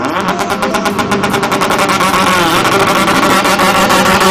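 Cars and motorbikes make display runs on the Coventry Ring Road at the MotoFest street event, a loud continuous engine roar with revving passes filling the stretch from start to finish.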